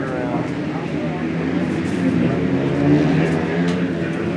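Flat track motorcycles race around a wet, slippery Daytona short track, their engines blending into a steady, loud, buzzing roar that swells slightly as the pack comes around.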